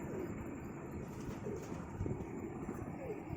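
Soft, low cooing of lotan pigeons, faint and somewhat distant, repeating gently over a quiet background.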